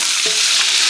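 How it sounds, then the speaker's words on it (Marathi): Curry leaves frying in hot oil for a Diwali chivda snack mix, a loud continuous hissing sizzle with one brief clink of a spoon near the start, heard close with no talking. "हा बघा कढीपत्ता मस्त तळला गेलाय तेलात"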